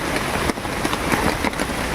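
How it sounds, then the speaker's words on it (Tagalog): Steady rain pours down outdoors, a dense broadband hiss of drops on surfaces with small patters and splashes, continuous and fairly loud throughout with no voices. "Basang-basa na kami sa ulan dito."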